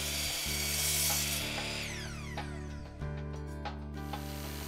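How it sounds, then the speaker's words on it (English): A miter saw cuts angled ends off southern pine boards for a garden bench; the motor hums steadily and its whine sweeps down as the blade bites through the wood, then settles into a continuous close buzz. "Then use a miter saw to cut the angles from the ends."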